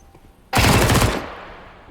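A sudden loud burst of rapid automatic gunfire in the video game Counter-Strike 2 erupts after a quiet moment, then decays into a lingering rumble.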